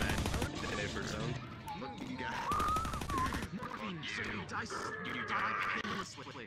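Rapid gunfire and shots from a VR role-play game, crackling bursts that come and go while players talk and shout over the top.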